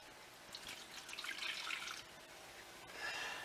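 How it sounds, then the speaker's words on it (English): Liquid poured into a food processor, a soft, steady splashing trickle over about three seconds, close but quiet, alone without talk. "so we pour this into here."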